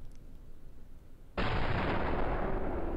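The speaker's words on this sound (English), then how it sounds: "This is the frame where we heard the gunshot." After a quiet rumble, a single sudden loud sniper rifle gunshot in a video game bursts in and its blast rings on to the end.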